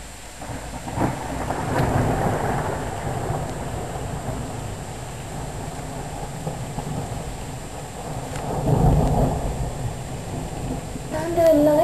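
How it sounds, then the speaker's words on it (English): Rumbling thunder rolls through a rainstorm, with a broad low swell early on and another heavy peal near the end, while rain hiss continues steadily underneath and someone talks faintly at times. "Thunder and lightning. Is it thundering? Big thunder."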